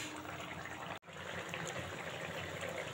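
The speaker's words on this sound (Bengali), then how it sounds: "দেখো ফুটে গেছে তরকারি একদম।" A pot of spicy fish curry made with parshe fish bubbles at a rolling boil, a dense, steady hiss of popping bubbles heard close, with a brief break in the sound near the start.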